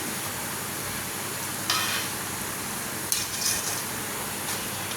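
A spoon scrapes and stirs coconut paste into spicy oil brinjal gravy in a pan, a steady soft sizzle running underneath with a couple of brief louder scrapes.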